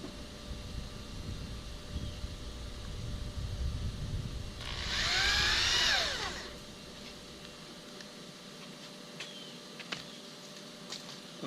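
A power drill with a number 2 square bit drives a screw into a vinyl gate bracket, a single whirring burst of about a second and a half that rises and winds down, with quiet background before and after.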